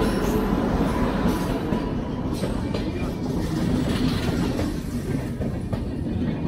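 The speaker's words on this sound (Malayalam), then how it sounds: "നമ്മുടെ ട്രെയിൻ വരുന്നുണ്ട് കേട്ടോ." An Intercity Express train arriving at a station, rumbling loudly and steadily with a continuous rolling clatter of wheels on rails, close by and with no talk over it.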